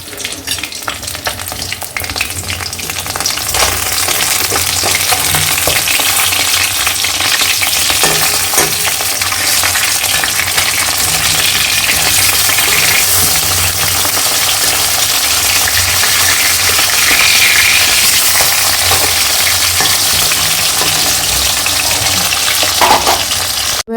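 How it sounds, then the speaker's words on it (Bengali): Fish frying in oil in a pan in a home kitchen, a batch cooked for a Bengali fish curry; a loud, steady, close sizzle runs unbroken throughout with no talking. "এখানে মাছ ভাজা চলছে"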